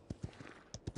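Horse hooves clip-clop in the video game Paladins, a quick series of about six soft, muffled thuds in an uneven trotting rhythm, faint over a hissy background with no voices.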